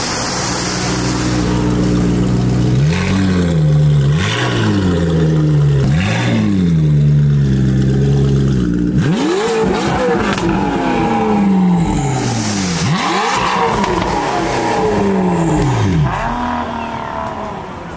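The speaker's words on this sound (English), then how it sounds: "This car sounds way different last time I seen it," A car's engine revs repeatedly at an outdoor car meet in a park. The engine climbs and drops in rhythmic pulses, loud and close, then gives a few harder, sharper revs.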